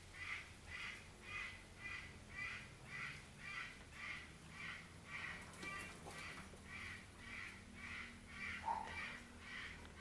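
A parrot outdoors after rain imitating a dog's barking, a faint, regular series of short, evenly spaced calls repeating about twice per second in the distance, with no talk.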